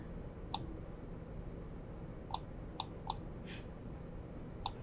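Sharp computer mouse clicks while modelling in Blender, five or six separate quick clicks spaced irregularly over a steady low room hum, close and fairly quiet.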